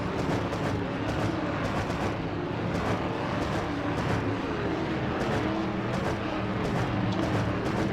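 A pack of stock race cars roaring through turn two in a Castrol GTX Cup series 300k race, a continuous dense engine drone with several cars blending together at a steady level and no clear pass-by peaks.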